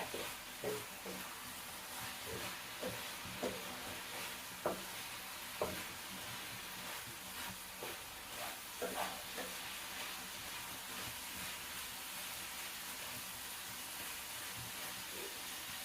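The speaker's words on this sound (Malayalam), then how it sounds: "ഇനി നമുക്ക് ഇതൊന്ന് ഇളക്കി കൊടുക്കാം ഇറച്ചി ഇടയ്ക്കിടയ്ക്കൊന്ന് ഇളക്കി കൊടുക്കണം" Meat cooks in a pot while being stirred: a faint, continuous simmering hiss with scattered soft scraping and clinking taps from the spoon at irregular intervals, quieter in the second half.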